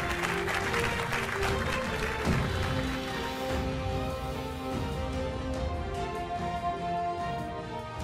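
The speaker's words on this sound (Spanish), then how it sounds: "El aplauso para los dos" A studio audience on a Spanish-language TV quiz show applauds for two contestants, a steady, moderately distant wash of clapping that holds at an even level throughout without pauses.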